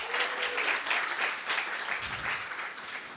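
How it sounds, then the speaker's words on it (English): Audience at a PyCon Italia 2024 conference talk applauds, a dense, steady wash of many hands clapping at moderate distance, sustained for several seconds. "Applause for Luca."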